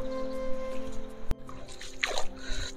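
Water trickles and splashes as someone wades across a cold, stony stream near the Indo-Bhutan border at Bhutan Chowki, with a sharp knock and a bubbling gurgle over a steady background hum.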